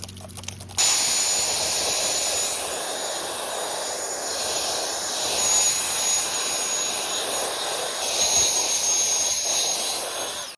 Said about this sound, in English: now we're just gonna rinse it off now that it's all dusty.